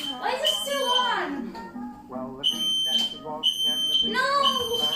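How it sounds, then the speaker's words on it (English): A household smoke alarm sounds a steady, piercing high tone through the second half of the clip, partly masked by a young person's loud, panicked shouting close to the microphone. "Why is the fire alarm on?"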